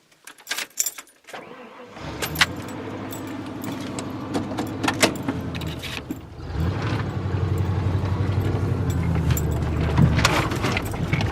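Pickup truck with keys jangling before the engine cranks and catches, then settles into a steady, close idle with occasional clanks and rattles from the cab.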